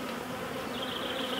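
Honey bees buzz steadily around a nucleus hive box, a soft, close, continuous drone with a faint higher whine rising partway through, no voices.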